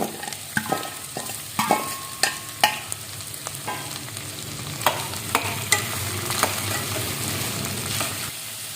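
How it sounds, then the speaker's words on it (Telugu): Oil sizzles steadily while a spoon scrapes and clicks against the pan in irregular sharp knocks as chopped green beans are stirred and fried in tempering oil. "ఇప్పుడు మనం ముందుగా కట్ చేసి క్లీన్ చేసుకున్న ఈ బీన్స్ వేసుకుందాం."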